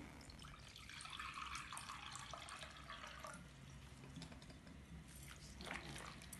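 Water poured steadily into a bowl of flour, fine semolina and salt for rfissa dough, a continuous soft splashing trickle with a faint background hiss, no talking.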